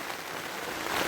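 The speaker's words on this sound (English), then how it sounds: "Can you hear that rain, man?" Steady rain beats down on a surface during a winter downpour while fishing, a dense continuous hiss with no talking.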